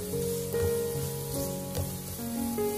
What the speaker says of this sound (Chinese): 把胡萝卜倒下去继续翻炒，把胡萝卜也炒香。